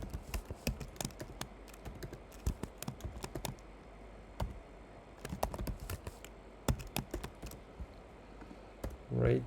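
Keys clatter on a computer keyboard in quick uneven bursts with short pauses, as a name and then a password are typed at close range.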